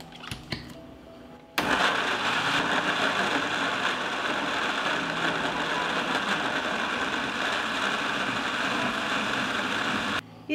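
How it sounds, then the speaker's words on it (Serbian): A kitchen blender grinds chopped tomatoes with a loud, steady whirring roar that starts abruptly after a short quiet moment and runs continuously for about nine seconds before cutting off. "I sada ću samleti paradajz."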